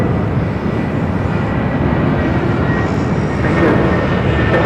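Alaska Airlines flight 1305 takes off from runway 6 right at LAX, a steady loud jet engine roar filling the whole stretch and swelling slightly toward the end.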